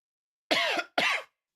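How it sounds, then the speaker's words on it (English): Two short, sharp coughs in quick succession, close to the listener, followed by silence. "I cannot shake this cough."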